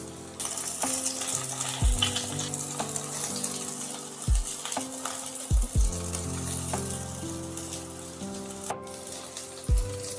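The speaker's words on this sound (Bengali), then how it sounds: "অল্প তেলে যদি চাপা দিয়ে বেগুন ভাজা যায়, সেই বেগুনের কিন্তু স্বাদ আলাদা হয়।" Eggplant slices frying in a little oil in a covered pan, a soft steady sizzle broken by several low knocks and thuds as pieces or the lid are moved, close and without talk.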